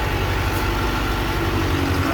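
An Allis-Chalmers 6080 tractor engine runs in gear, a dense, loud, steady diesel drone close up with no pauses.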